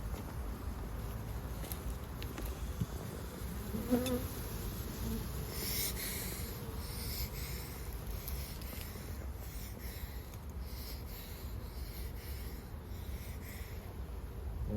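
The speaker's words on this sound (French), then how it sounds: "Pas mal d'abeilles dessus." Honeybees around an open hive during an inspection, a faint, continuous low buzzing hum set against outdoor ambience, with a few light rustles and taps, quiet throughout and without speech.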